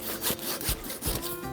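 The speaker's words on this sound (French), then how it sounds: "J'ai amené ma scie pour ça. Fait que je la coupe au niveau de la base." A hand saw cuts through the base of a dead tree, with rhythmic back-and-forth rasping strokes roughly every third of a second, close and steady with no voices.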